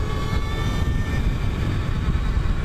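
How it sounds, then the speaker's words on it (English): An Energica Eva electric motorcycle accelerates with a loud rising jet-like whine over heavy wind rush, tonal pitches sweeping upward through the first half before blending into steady roaring noise. "Energica has some sound. They definitely sound like a fighter jet."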